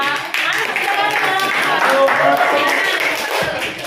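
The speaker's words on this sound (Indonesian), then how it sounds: "tepuk tangan buat Novia" Students in a classroom clap for a classmate, a loud, close burst of many hands with voices chattering throughout.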